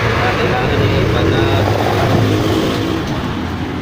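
Noisy road traffic from passing vehicles beside a roadside repair spot, a loud continuous engine and tire roar that holds steady throughout and eases slightly at the end.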